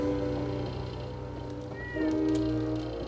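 A cat meows once in the game Fallout 4: Far Harbor, a short mewing cry over a steady background hum and low tones.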